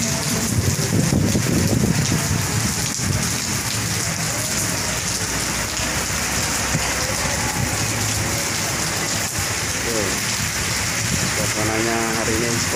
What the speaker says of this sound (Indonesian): Suasananya hari ini sepertinya sampai sore nih rata nih hari ini hujan.